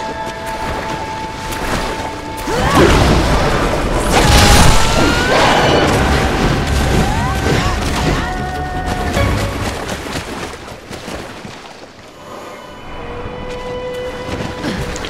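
Fire spell explosions in the video game Wo Long: Fallen Dynasty, loud booming blasts and crashes stacked over busy combat effects and music, with a dense heavy stretch early on that eases toward the end.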